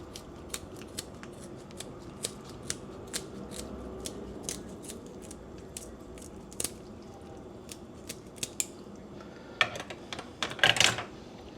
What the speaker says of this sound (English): Try to use my scissors.